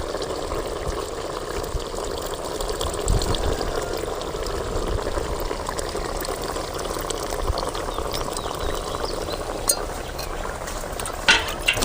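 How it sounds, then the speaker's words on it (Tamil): Tamarind water, dissolved by hand, poured into a simmering brinjal and drumstick gravy, giving a steady liquid splash and bubbling that runs throughout at moderate level with a few sharper clinks near the end. "புளியை நல்லா கரைச்சி ஊற்றிக்கலாம்"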